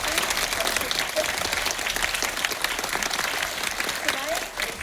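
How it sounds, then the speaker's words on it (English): A crowd applauds directors and collaborators at a film screening and director talk, the clapping dense and sustained throughout with some voices and cheers mixed in. "Let's give a round of applause to directors and also the collaborators."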